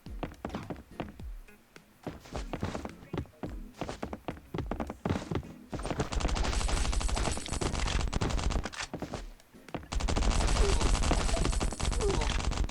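Gunfire in Last Island of Survival, rapid bursts of shots and thudding impacts at first, then sustained loud automatic fire in long dense runs, close and harsh, with little talk.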